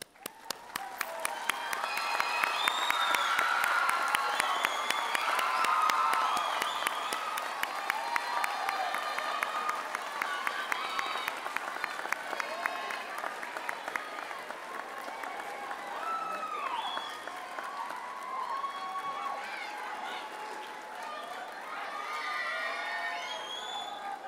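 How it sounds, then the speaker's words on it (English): A large graduation ceremony audience breaks into sustained applause with cheers and whoops scattered through it, swelling early and then continuing steadily across the hall. "Please be upstanding and a round of applause."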